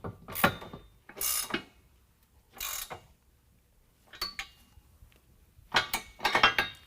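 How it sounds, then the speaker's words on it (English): A ratcheting wrench clicks in short, bright bursts while tightening 19 millimeter bolts on an N-Fab RKR step system fitted to a 2019 Ram 1500. About seven separate spurts come close up with pauses between and no talking. "going to use a 19 millimeter wrench and ratcheting wrench to tighten these down"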